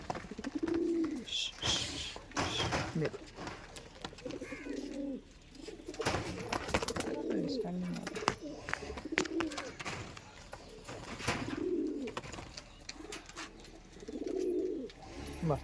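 Giribaz pigeons coo repeatedly in low, throaty bursts close by, several birds overlapping, with faint clattering and occasional talk beneath.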